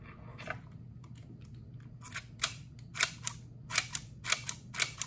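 An early camera lens shutter, fired by cable release, snaps repeatedly in a series of sharp, close clicks that grow louder and more frequent toward the end, against a quiet background.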